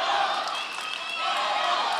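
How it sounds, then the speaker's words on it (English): Crowd chanting at a World Muay Thai Organization fight in Cape Town, South Africa, a dense, steady roar of many voices filling the hall without pause. "as the chant of Ncedo rises up behind our shoulder"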